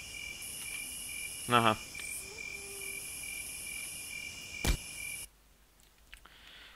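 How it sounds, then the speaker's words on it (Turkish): A fly buzzes in the horror game Zombie Zoeds, a thin, high, steady drone close to the ear that stops abruptly, with a brief murmured voice in the middle. "Böyle 4-5 saniyede bir sinek vızıltısı falan kulağımın dibinde dibinde dolaşıyor."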